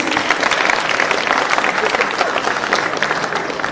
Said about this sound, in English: A clap for them, please.